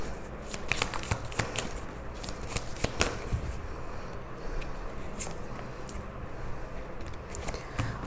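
Tarot cards shuffled and drawn by hand: soft rapid riffling and flicking of cards with crisp little taps, close and fairly quiet, continuous throughout with no talking.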